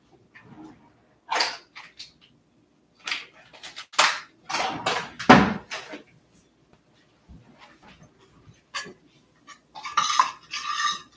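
A spoon scrapes and clinks against a pot while stirring chocolate chips into cream, in short irregular bursts separated by quiet pauses.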